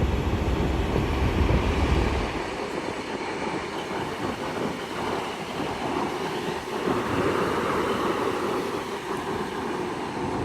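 British Rail Class 155 diesel unit 155 341 pulls into York station, a loud rumble opening the clip before settling into a steady rolling clatter of wheels on rail with faint squeals, close by and continuous.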